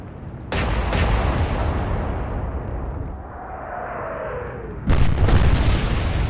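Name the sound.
naval guns firing at turrets in video game Atlantic Fleet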